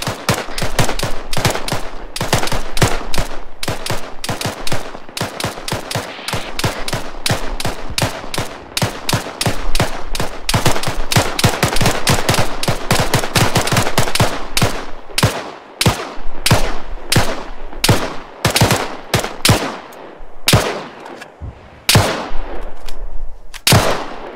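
Rapid, loud rifle and machine-gun fire in the video game Arma 3, with continuous bursts of closely spaced shots that later break into separate single cracks.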